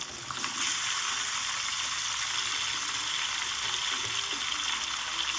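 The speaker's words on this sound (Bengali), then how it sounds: "ওই তেলের মধ্যেই দিয়ে দিলাম লম্বা লম্বা করে কাটা আলুগুলো" Long-cut potatoes fry in hot oil in a pan, a loud, steady, close sizzle that bursts up as they go in and then holds at an even level.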